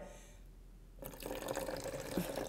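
Water pours from a seemingly empty vessel during a magic trick, a steady, close splashing stream that starts abruptly after a second of near silence and continues to the end.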